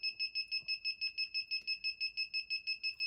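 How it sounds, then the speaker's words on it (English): A steady, rapid electronic beeping from a Micro Alert 2 RF radiation monitor repeats evenly, about five high-pitched chirps per second, clear and close with no other sounds. "if you go to higher sensitivity, then it just beeps quicker and closer to the sources"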